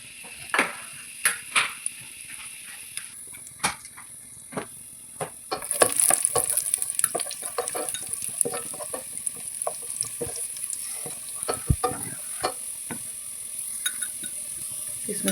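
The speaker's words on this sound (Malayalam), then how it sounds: "ഇനി ഇതിലേക്ക് നമുക്ക് കിസ്മിസ് ഇട്ട് കൊടുക്കാം" Raisins sizzling and frying in hot ghee in a pan, with a steady crackle and occasional stirring clinks and scrapes, growing louder and busier partway through, with no voices.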